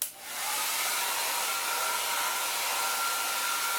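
A hair dryer switches on and blows with a steady, loud airy roar close by.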